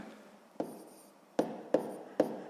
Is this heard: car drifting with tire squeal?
no